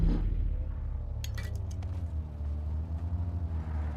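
Vehicle driving in the battle royale game BGMI, a steady low engine rumble running throughout, with a few brief clinking metallic sounds near the middle.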